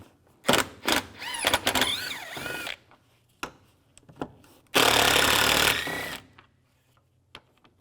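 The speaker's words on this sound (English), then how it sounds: "Use a T30 socket, take these out." A T30 socket backs screws out of the headlight cover on a 2004-2010 BMW X3, giving short bursts of ratcheting and whirring between pauses, with rattling and handling noises and a longer loud burst midway.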